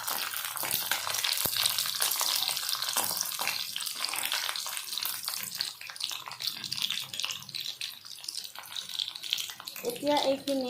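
Garlic frying in oil in a pan for garlic bhindi, a continuous crackling sizzle that is loudest early and eases later, with a brief clatter near the end.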